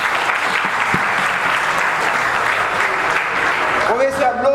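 An audience at a lecture on secret societies in Haitian anthropology breaks into steady, sustained applause, a dense wash of clapping hands, before a voice begins speaking near the end.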